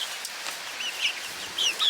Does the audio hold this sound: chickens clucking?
yes